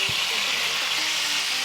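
Tomato and capsicum frying in a pan for kuzhi mandhi while being stirred, giving a steady close hiss of sizzling oil with soft scraping from the stirring and no talk.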